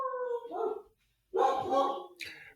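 Pet dogs at home make a few short yips and whimpering barks, close and moderately loud, in two bursts separated by a brief silence.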